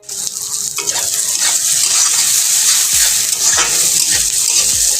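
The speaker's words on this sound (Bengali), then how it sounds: "এখন আমি পেঁয়াজটাকে ভালো করে ভেজে নেব।" Chopped onions fry with whole white cumin and dried red chillies in hot oil, giving a steady loud sizzle with occasional scraping stirs of a spatula against the pan.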